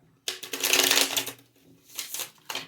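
Tarot cards riffle and flutter up close in a quick burst, followed by softer shuffling taps.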